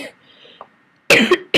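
A quiet moment, then two sharp, close coughs in quick succession.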